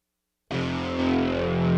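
A distorted, guitar-like pop-rock tone from an Akai MPC sampler cuts in abruptly after a moment of silence and holds as a thick, buzzing sustained chord that swells slightly.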